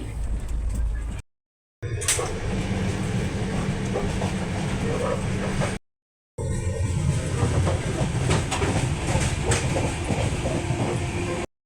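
A moving passenger train rumbles and rattles with rhythmic wheel clatter from inside the coach, loud and continuous apart from two brief cuts, while someone talks over it.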